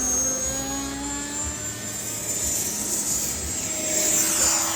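A small jet engine whines loudly with rising and falling pitch as a radio-controlled model jet aircraft passes and comes in to land, the turbine tone shifting steadily.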